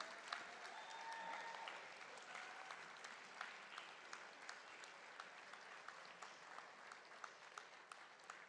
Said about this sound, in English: Can we have a big round of applause for this whole team?